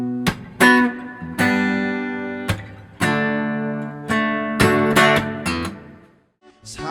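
Acoustic guitar strumming chords slowly, a live acoustic arrangement of a song, with sharp percussive slaps between sustained chords and a brief pause near the end.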